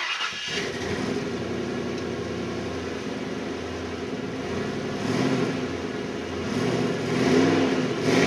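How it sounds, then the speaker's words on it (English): A rebuilt 1998 Ford F150 with a 5.4L Triton V8 and E4OD transmission runs close by, its engine droning steadily and swelling in a few revs as the truck tries to move. "I'm going to try and move the truck for the first time"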